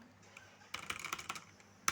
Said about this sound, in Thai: เป็นคีย์บอร์ดที่มีเสียงครับ